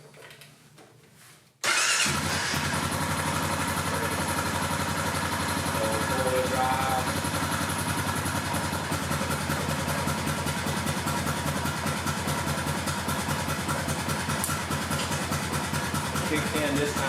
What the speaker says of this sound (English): So I'm going to go ahead and crank this up.